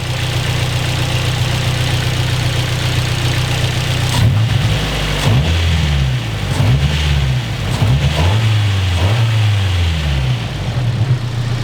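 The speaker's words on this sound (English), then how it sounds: "Look at the engine when I revved the car" A car engine on polyurethane engine and transmission mounts idles with a steady low rumble, then revs up several times in quick bursts, rising and falling close by.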